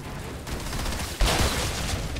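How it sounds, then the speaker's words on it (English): Shotgun blasts in the video game Outriders, a sharp loud boom near the middle cutting through a dense, continuous wash of gunfire and battle noise. "Oh, I do like the shotgun."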